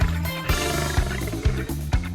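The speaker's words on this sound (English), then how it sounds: "Lion." A lion roaring in a series of deep, rhythmic grunting roars, about five loud pulses roughly half a second apart, close and powerful.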